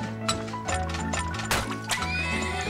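A horse neighs and whinnies in the video game Turmoil, with clip-clop hooves mixed in over a steady game music bed, several short loud calls close by.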